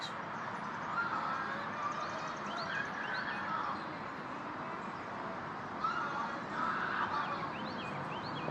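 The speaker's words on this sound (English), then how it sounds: "those birds freaked out. What the hell is that noise?" Agitated birds call near a campsite in two bursts of shrill, wavering cries, moderately loud over a steady background hiss.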